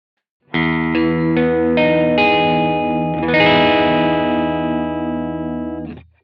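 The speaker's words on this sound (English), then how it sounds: "now that really does sound like a guitar amplifier" Overdriven electric guitar through a Strymon BigSky cabinet simulation, chords struck several times in quick succession, then one thick, distorted chord sustains and rings until it cuts off.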